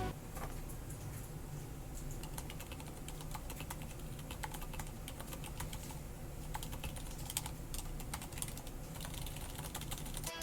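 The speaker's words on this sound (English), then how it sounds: "This keyboard is using Cherry MX Reds and very great PBT keycaps." Fingers type fast and continuously on a Leopold keyboard with Cherry MX Red switches and PBT keycaps, a dense stream of light clicks and clacks, quiet and close, with no voices.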